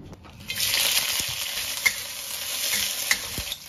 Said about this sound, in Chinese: 先来炒一下